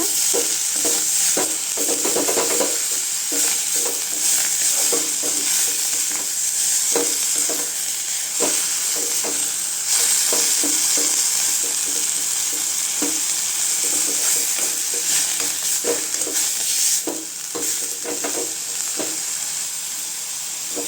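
Coriander chutney ingredients sautéing in a pan, a loud continuous sizzle with repeated scraping strokes of stirring throughout, close up and without talk.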